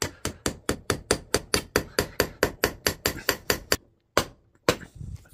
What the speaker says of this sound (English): Try to hammer that through.